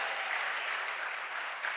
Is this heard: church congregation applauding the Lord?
yes